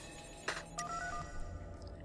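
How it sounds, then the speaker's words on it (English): A phone call ringing in the video game Sleeping Dogs: two short electronic rings sound clearly, the second followed by a sustained tone, over a quiet background with no talk. "Call Tang"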